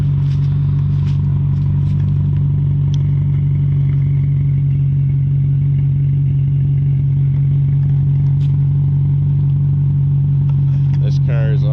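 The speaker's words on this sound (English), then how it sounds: "He said it sounds like a NASCAR V8." Tuned BMW 540i E39 V8 with a custom exhaust and Turner Motorsports tuning, holding a deep, steady idle rumble for the whole stretch, close and loud, with faint clatter and a brief rev near the end.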